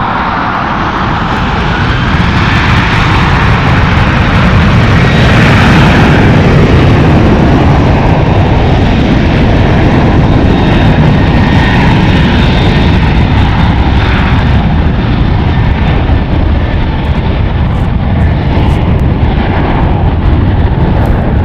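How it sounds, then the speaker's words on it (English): An eight-year-old Alaska Airlines Boeing 737-900AR jet takes off from runway 1 right at San Francisco International Airport, a loud, steady engine roar that swells and holds for about twenty seconds with broadband rumble and whine. "Lining up on runway 1 right is Alaska Airlines Flight 9716 going to Fort Worth. It is a Boeing 737-900AR,"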